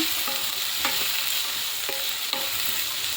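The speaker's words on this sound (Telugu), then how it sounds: "ఒక ఐదు నిమిషాల పాటు ఇలా అలసందులు వేసి ఫ్రై చేసుకోండి" Black-eyed peas fry in a pan, making a constant close sizzle broken by a few soft scraping stirs.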